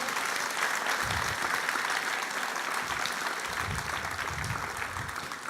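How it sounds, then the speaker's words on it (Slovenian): Sustained applause from a live audience for dancers of a cultural society at the 2019 national opening of Lifelong Learning Week in Kranj, a dense, steady clapping that carries evenly throughout with a crowd murmur beneath. "Dajmo jim še en aplavz"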